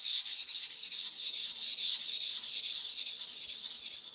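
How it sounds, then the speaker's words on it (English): A clipper blade is worked back and forth on a flat surface with grinding paste, giving a steady, close rasping rub in quick, even strokes that repeat without pause. "I want to sharpen this blade now. I want to go to and fro 30 times one side, 30 times the other side with slow movement."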